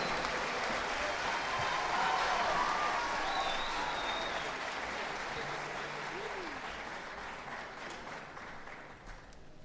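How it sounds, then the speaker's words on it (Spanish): A large audience applauds the National Police band and orchestra on its 110th anniversary, with dense sustained clapping and crowd noise that fades gradually over several seconds. "Fuertes aplausos, 110 años de la banda de la policía, Eduardo Martínez."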